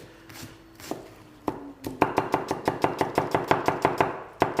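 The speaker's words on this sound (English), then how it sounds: "So, chop your onions nice and fine." A kitchen knife chops onions finely on a cutting board, starting with a few slow cuts and then settling into a quick, steady run of crisp, close taps with no one talking.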